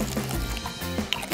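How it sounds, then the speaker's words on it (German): A favourite drink poured into a plastic drink pouch, a soft liquid gurgle and trickle running steadily for a moment at close range, with no voices. "Als nächstes nimmst du dein Lieblingsgetränk und gießt es in den Beutel."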